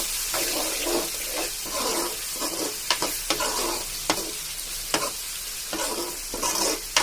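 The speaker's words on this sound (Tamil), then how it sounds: "தக்காளி நல்லா வதங்கணும்." Tomatoes sauté in plenty of oil for a kavala (sardine) fish curry, a steady close sizzle broken by periodic scrapes and clinks of a stirring spoon against the pan, no voices.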